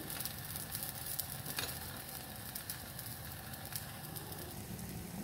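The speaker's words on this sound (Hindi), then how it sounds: "तवे में मैंने देसी घी डाल के ऊपर पराठा डाल दिया है" Paratha frying in desi ghee on a hot griddle, giving a steady, even sizzle and crackle throughout, moderately quiet and close, with no voices.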